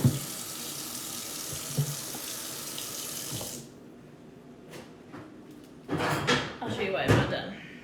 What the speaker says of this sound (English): Excuse me while I wash my hands real quick.